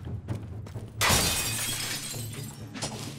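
Objects shattering with a loud crash of breaking glass and debris in the action game Shadow Warrior, a sudden burst that decays into scattered clinking fragments.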